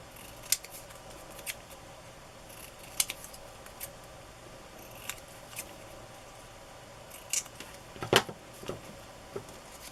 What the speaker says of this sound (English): I'll just trim it a little bit to make it a tad smaller.